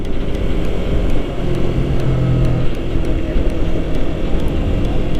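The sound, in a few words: Yamaha YZF-R3 motorcycle accelerating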